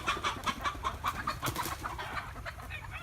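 Chickens perched up in a tree cluck in a steady, rhythmic series of calls, moderately near and fairly faint, with no talking.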